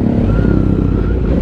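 A Kawasaki Z900 motorcycle with its catalytic converter removed idles close by, a loud, steady, throbbing rumble at night among other riders, with no speech.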